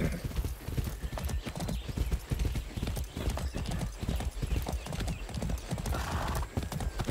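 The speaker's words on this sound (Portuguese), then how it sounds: "Vamos embora a cavalo, vai." Rapid, steady hoofbeats of a galloping horse in the video game Far Cry 6 thud close by, with a brief whinny and faint background noise.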